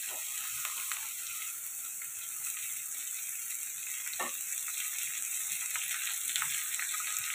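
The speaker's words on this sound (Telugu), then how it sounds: "ఇవి ఇప్పుడు ఇలా ఫ్రై అవుతున్నాయి కదండి." Ridge gourd pieces sizzle steadily while frying in a pan, a soft continuous hiss with occasional faint stirring clicks and scrapes, close and fairly quiet.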